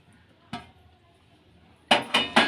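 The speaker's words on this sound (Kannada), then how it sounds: "ಈಗ ಪನ್ನೀರ್ ಕ್ಯೂಬ್ಗಳನ್ನೆಲ್ಲ ಹಾಕ್ಕೊಳ್ಳೋಣ. ಈರುಳ್ಳಿ, ಕ್ಯಾಪ್ಸಿಕಮ್ ಎಲ್ಲನೂ ಇದಕ್ಕೆ ಸೇರಿಸ್ಕೊಳ್ಳೋಣ." Metal utensils clink against a bowl as paneer cubes, onion and capsicum are added for paneer tikka, one sharp knock followed after a pause by three quick clattering taps, close and clear in a quiet room.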